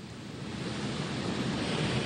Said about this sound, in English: You can see the waves coming up above the wall.